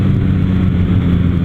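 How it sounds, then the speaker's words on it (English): A Kawasaki W800 cafe racer motorcycle runs at full throttle, its engine a loud, steady close roar with a dense low-pitched rumble held throughout the short burst. "it swings around to the rev limiter pretty quickly"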